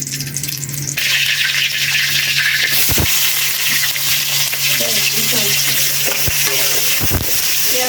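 Whole cumin seeds sizzle in hot oil, tempering for a surma fish curry cooked meat-style: a steady, close frying hiss that swells after the first second, with a few clattering stirs and knocks against the pan.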